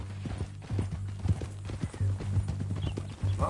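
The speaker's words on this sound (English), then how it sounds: "That new horse?" A horse's hooves clip-clop in a steady walking rhythm in the video game Red Dead Redemption 2, close and clear with low ambient rumble underneath.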